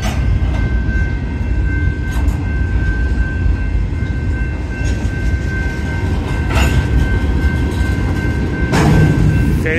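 Freight train with a Canadian Pacific AC4400CWM locomotive rolling past, a loud continuous rumble of wheels and cars with rhythmic clicks and occasional squeals, close by and alone.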